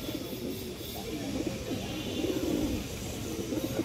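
Giribaz pigeons, a large-headed female and male pair, coo in a low, continuous warbling murmur, fairly close and steady over soft background noise.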